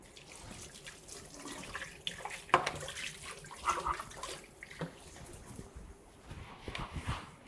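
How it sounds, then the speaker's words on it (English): Tap water runs steadily while a cutting board is rinsed under it in a home kitchen sink, a soft continuous splash with brief clatters, close by and moderately quiet. "While that is rendering, I'm going to rinse off this cutting board."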